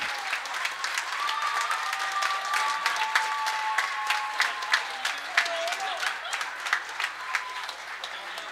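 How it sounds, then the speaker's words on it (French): A crowd at a secondary school talent show claps steadily, a dense wash of applause with distinct individual claps standing out, continuing for several seconds while a voice speaks faintly over it. "Une bonne main d'applaudissements pour tout le monde."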